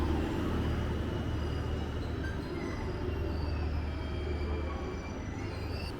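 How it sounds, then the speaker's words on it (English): The JR Kyushu Yufuin no Mori train pulls into a station, a continuous low rolling rumble of wheels on rails with faint metallic squeals, moderately distant and with no voices. "our train pulled into the station"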